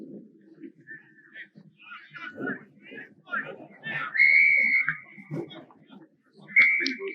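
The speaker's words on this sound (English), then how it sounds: "Whistle, the kick is off." A referee's whistle blows to start a kick-off at a rugby quarter-final, sounding as a long steady shrill blast followed by a shorter one, heard over crowd noise and a commentator's voice.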